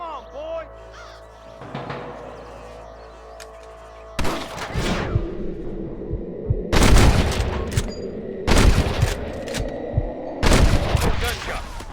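Several loud bursts of gunfire in the video game Red Dead Redemption crack out in quick volleys, separated by short pauses, with voices shouting beforehand and between shots.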